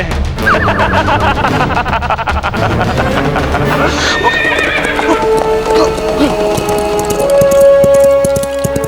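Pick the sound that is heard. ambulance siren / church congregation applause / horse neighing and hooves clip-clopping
horse neighing and hooves clip-clopping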